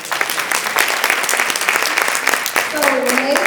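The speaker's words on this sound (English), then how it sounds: "please give them a round of applause" An audience at the Motivated Moms Retreat 2019 claps in a dense, steady burst of applause that fades near the end as a voice comes in.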